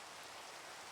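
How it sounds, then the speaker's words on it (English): Rain in the video game Minecraft, a steady soft hiss of falling drops with no breaks, faint and even throughout. "it's raining. Of course it's raining."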